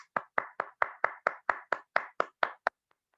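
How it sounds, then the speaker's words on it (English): A single person claps for Rohit during an online Toastmasters club meeting, about twelve sharp, evenly spaced claps close to the microphone. A couple of faint taps follow, then silence. "may I request everyone to give Rohit a huge round of digital and physical applause"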